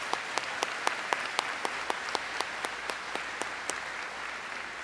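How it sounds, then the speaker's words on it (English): A faint, light round of applause for award nominees at a senior awards ceremony, a few distinct claps standing out at a steady pace over a soft wash of clapping. "give one more round of applause to all of these nominees"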